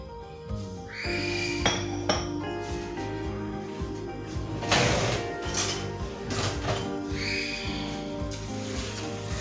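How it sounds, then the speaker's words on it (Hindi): A metal spoon stirs sugar and water in a pan for besan ladoo syrup, giving repeated scraping clinks and rubbing strokes at close range with no talk over them. "स्पून जो है हम इसमें ऐसे चलाते रहेंगे, क्योंकि शुगर जो है वो आपस में मिल ना जाए"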